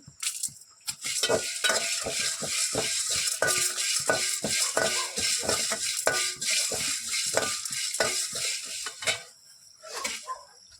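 Something is dry-roasted in a pan over medium heat, with a ladle scraping and clinking rapidly against the metal in a fast, regular rhythm over faint sizzling, close up and with no talking.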